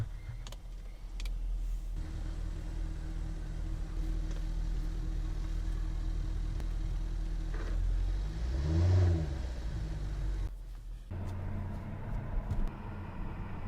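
A Jaguar F-Type R engine hums through the cabin while driving, then revs up in a rising swell near the middle before settling back, with a few clicks at the start and end.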